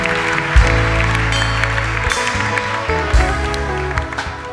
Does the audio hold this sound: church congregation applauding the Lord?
yes